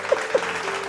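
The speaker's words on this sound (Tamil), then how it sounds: "கையத்தட்டு." A church congregation claps, a dense wash of applause with a couple of louder hand claps standing out near the start of the brief burst.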